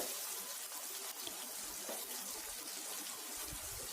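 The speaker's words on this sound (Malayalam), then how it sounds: "ഞാനിപ്പോൾ എല്ലാം ഫുള്ളായിട്ട് ഈ വെളിച്ചെണ്ണയിലോട്ട് ഇട്ട് കൊടുക്കുന്നുണ്ട്" Prawns frying in hot coconut oil for a spicy prawn fry give off a steady, close, dense sizzling hiss that holds evenly throughout, with no voices over it.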